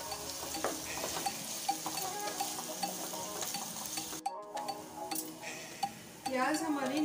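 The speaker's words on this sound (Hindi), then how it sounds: "2 मीडियम साइज़ की प्याज को फाइनली चॉप करके डाल देंगे। हम लाइट ब्राउन हुए तक भून लेंगे।" Two medium onions, finely chopped, fry in a pan while a spoon scrapes and stirs against the metal with scattered clinks, and a steady sizzle runs underneath at close range.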